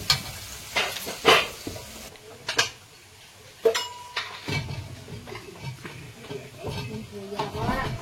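Spice paste frying in oil in a pan while being stirred, with soft sizzling, intermittent scraping stir strokes and a few clinks, at moderate distance amid light kitchen noise.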